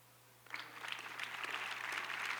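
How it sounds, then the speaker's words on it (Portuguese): Audience applause at a church service begins suddenly after a low hum and swells into a dense, continuous clapping that holds at moderate loudness to the end. "Aplauda."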